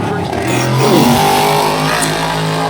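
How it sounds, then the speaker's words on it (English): Modified race car at Bowman Gray Stadium taking the green flag in qualifying, its engine roaring loud and close as it accelerates, with a race announcer's voice over the engine noise. "Tim Brown takes the green flag."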